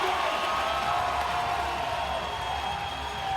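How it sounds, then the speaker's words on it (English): Arena crowd at a National Lacrosse League game between the Calgary Roughnecks and Washington Stealth roars loudly and steadily, a broad sustained wall of cheering with no break. "Gets up and the crowd roars for number 83"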